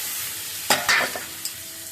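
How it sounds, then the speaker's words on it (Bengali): A sharp hiss bursts up as eggs seasoned with turmeric and salt hit hot oil in a frying pan, followed by a crackling sizzle that quickly settles to a softer fry. "এবার ছেড়ে দিব সরাসরি ডিমগুলো।"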